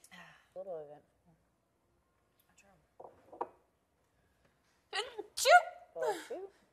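A houseguest on Big Brother 20 lets out a sneeze, a sharp close burst among quiet voices. There are brief vocal sounds early on and more talk follows right after.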